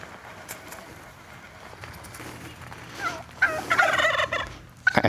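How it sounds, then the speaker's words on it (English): Several wild turkeys gobble at close range in a forest, a burst of rapid, rattling calls rising after a quieter stretch of rustling, then cutting off before a final loud noise. "And suddenly there are turkeys."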